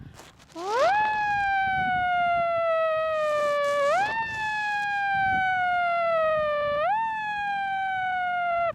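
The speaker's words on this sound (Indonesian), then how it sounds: "Raungan ambulan" A loud ambulance siren wails continuously, its pitch sweeping up and slowly falling in repeated cycles, close and steady.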